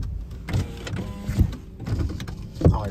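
Power windows on a 2016 Scion iM motoring up and down, a whirring electric hum rising and falling in short runs with small thumps as each window stops, close by inside the car.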